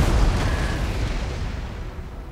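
An artillery round shot from a cannon in the Napoleon: Total War video game fires and bursts in a single heavy, loud boom whose rumbling roar slowly fades away, with no talking.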